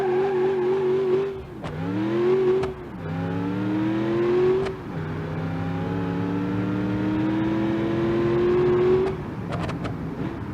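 A car engine boosted with nitrous and a supercharger in BeamNG.drive, loud and close, revving up repeatedly with sharp gear-shift drops and a long climbing pull between them.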